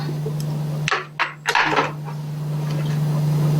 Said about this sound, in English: Now we pour the orange that we have from inside into the blender.